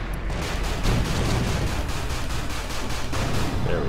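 Missile fire in the space shooter Everspace 2, a dense rumbling barrage of rapid launches and blasts that runs steadily and loud for the whole moment with no voices.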